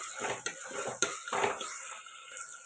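Garlic and ginger sizzling in a pan while a utensil stirs and scrapes, with a few sharp clinks of metal against the pan.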